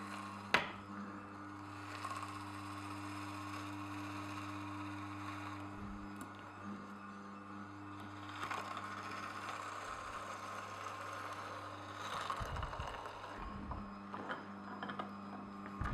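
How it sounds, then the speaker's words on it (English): An Omega Twin Gear TWN32S juicer crushes carrots fed with a wooden plunger, giving a low, steady mechanical drone and hum with occasional faint crunching grinds throughout. "I'm going to switch to the wooden plunger because that can go all the way in if I want to really force them."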